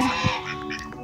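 Ducks give a few brief, close quacks and honking calls in a springtime yard, one sharp call near the start followed by several quicker ones, with no talking.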